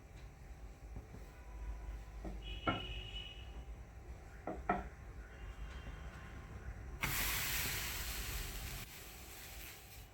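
A sudden loud hiss bursts in partway through and holds steady as thalipeeth batter hits a hot griddle, after some faint clinks and rustling.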